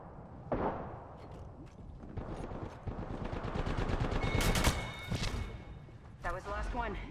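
Repeated gunshots and bursts of automatic fire in an Apex Legends match, sharp cracks scattered at moderate volume through the whole stretch, mixed with game voices and other battle noise.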